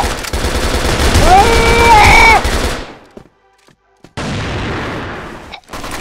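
An FN-FAL rifle fires in the CrossFire shooter game, a loud rapid rattle of gunfire layered with other game sounds. After a short lull it starts up again for a second burst.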